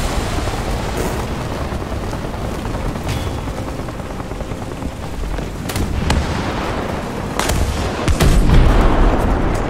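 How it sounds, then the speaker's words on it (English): In War Thunder, British tanks fight an arcade battle. A constant rumble of engines and combat runs under several sharp, loud cannon booms, with the heaviest blasts clustered near the end. "He's shooting at me! He's shooting at me!"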